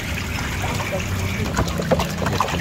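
Water runs and trickles while pork bones are rinsed in a bowl for soup, a continuous splashing wash with small clinks, close by.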